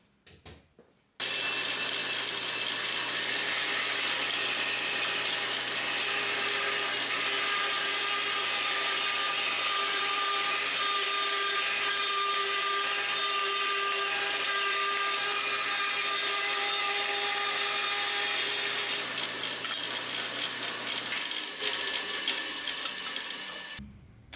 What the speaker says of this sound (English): So off to the bandsaw, we'll fix that up.